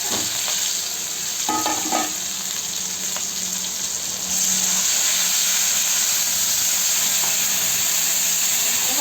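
Whole spices and asafoetida crackle and sizzle in hot oil for tempering, a steady hissing that swells louder midway, with a few clinks of a utensil near the start.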